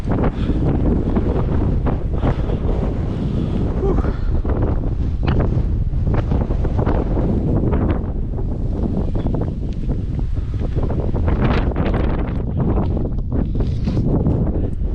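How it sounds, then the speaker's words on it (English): Strong, steady wind on a mountain in the Victorian High Country buffets the microphone in a continuous roar with gusty surges throughout, loud and close, no voices. "It's a bit windy."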